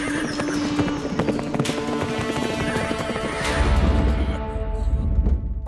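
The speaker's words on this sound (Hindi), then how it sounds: "वो देखो घोड़े, वो देखो घोड़े।" Cartoon herd of wild horses galloping through a jungle, a dense drumming of hooves with whinnies, the rumble swelling louder and heavier toward the end.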